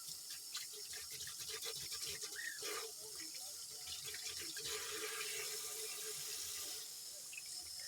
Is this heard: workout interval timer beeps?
no